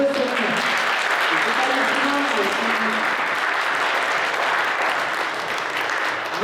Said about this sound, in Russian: Давайте громко аплодируем каждому, кого я буду сейчас объявлять